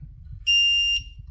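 A DOVOH H3-360G laser level gives a single clear electronic beep, a steady high tone of about half a second against faint background noise.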